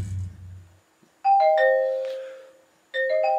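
Speaker channel test tones from a Sound Blaster 24-bit External card set up for 5.1 surround: two clear chime-like tonal signals with a short pause between them, heard alone without talk after a brief low rumble.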